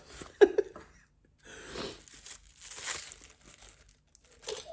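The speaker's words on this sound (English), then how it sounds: "ooh, tissue paper." Tissue paper crinkles and rustles close by as a gift is unwrapped, with quiet bursts of crackling and short pauses between them.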